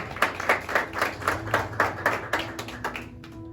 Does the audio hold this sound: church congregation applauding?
yes